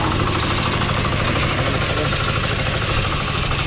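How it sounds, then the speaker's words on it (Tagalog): A farm machine runs steadily through rice paddies, its continuous engine rumble and mechanical knocking loud and close throughout with no pauses. "Dito, may dumaan na makina."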